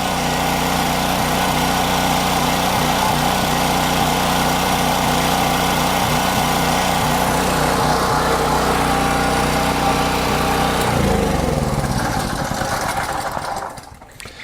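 A generator engine runs loud and steady close by, its pitch wavering as it hunts for idle, then dips sharply and winds down near the end.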